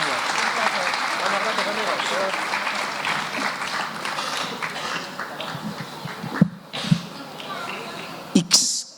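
An audience at the Feria del Libro Aragonés in Monzón applauds after a talk, a dense, sustained clapping that fades into scattered claps near the end while voices talk underneath.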